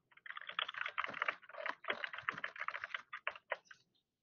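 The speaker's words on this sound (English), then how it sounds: "type in your name again, type in your project title" Steady, quick typing on a computer keyboard, a dense run of light plastic key clicks close by, alone without talk for about four seconds before stopping.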